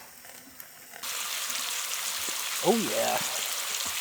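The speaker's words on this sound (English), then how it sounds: "We got some sizzle going." Mushrooms hit hot oil in a pan at a forest campsite, a loud steady sizzle bursting in abruptly after a quiet start and holding on, with a brief spoken remark partway through.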